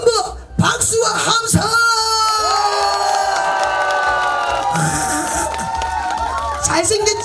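Crowd at an amateur saxophone performance event clapping and cheering, loud and sustained, with whoops and shouts over the steady applause and a host's voice at the start.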